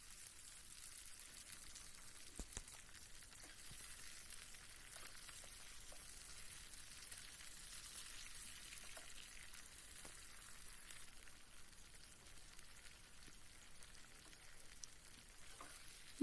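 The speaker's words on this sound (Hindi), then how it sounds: "अब हम डालेंगे इसको भी हमें हल्का सा फ्राई करना है" Saag greens lightly frying in oil for a traditional Kashmiri recipe, a steady faint sizzle that continues evenly throughout with occasional soft ticks and pops, no talking.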